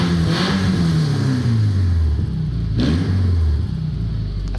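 Car engine revving with the exhaust pipe off and an unwelded header, a loud raw rumble that climbs in pitch on two throttle blips before falling back to a rough idle.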